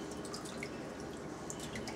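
Water drips and splashes lightly during a baby's bath, a soft continuous wash of droplets with occasional brighter plinks, fairly close and without voices.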